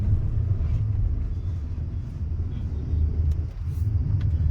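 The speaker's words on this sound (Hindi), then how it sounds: "अभी गाड़ी को थोड़ा सा चला के और चेक कर लेते हैं" A Kia Carens with a check engine light fault is driven, giving a steady low engine and road rumble from inside the cabin, constant and moderately loud with no talk.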